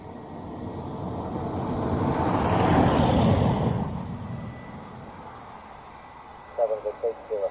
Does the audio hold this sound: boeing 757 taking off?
yes